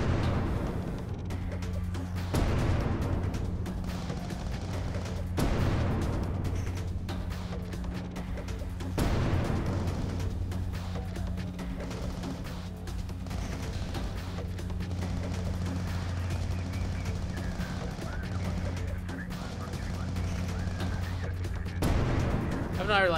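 Mortar rounds fired in the Heavy Fire Shattered Spear war game land as several heavy booms spread over a steady low rumble of battle, with a few loud impacts standing out above the continuous din.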